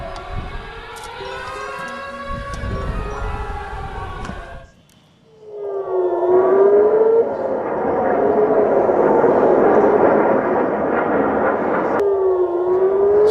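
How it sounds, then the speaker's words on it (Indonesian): Air raid sirens wail across Tel Aviv, rising and falling, cut out briefly, then return louder with a broad rumbling wash of explosions beneath them. "Sirine meraung-raung di seluruh Tel Aviv dan ledakan terdengar jelas"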